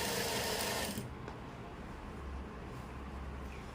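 A sewing machine stitches a palazzo waistband, giving a brief run of fast mechanical whirring and clatter that stops after about a second, followed by quiet low handling sounds.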